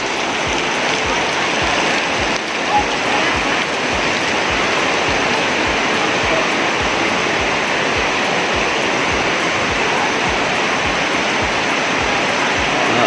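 Steady, dense wash of heavy rain pouring down on a tent, a constant broadband roar with no letup, close and loud throughout.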